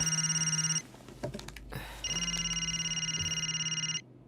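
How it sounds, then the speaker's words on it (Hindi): A telephone rings in two loud electronic bursts indoors, separated by brief clattering handling noise, each burst a steady warbling tone. "हे विमल, फोन उठाना यार"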